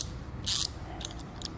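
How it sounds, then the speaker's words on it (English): A 7/16 inch wrench tightens bolts on a B and W Patriot fifth wheel trailer hitch, giving a few short, quiet metallic ratcheting clicks and scrapes close by. "We'll go ahead and tighten these down using a 7/16 inch wrench."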